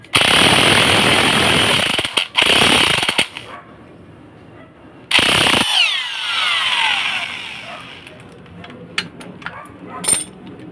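Impact driver loosening shock absorber bolts on a Kia Rio during a shock replacement, loud bursts of hammering rattle in two long runs with a short pause, then quieter clinks and tool handling afterward.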